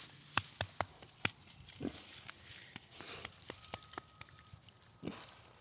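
A pig that has been rolling in mud grunts and snuffles close by in short, irregular bursts, with sharp clicks and low snorts scattered over several seconds and no talking.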